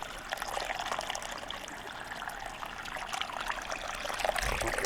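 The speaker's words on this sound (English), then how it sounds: "you can see the water comes down, some of it comes over this way, and then it disappears under the ground right there" Water on an off-grid homestead trickling down a slope and vanishing under the ground, a continuous close splashy babble with no voices.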